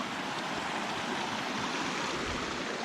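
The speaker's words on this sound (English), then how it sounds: "Oh, nice little creek. I'm assuming it's Trapper Creek." Trapper Creek, a small mountain creek in the Grand Tetons, Wyoming, pours along in a continuous near rushing wash of water, even in level throughout with no talking.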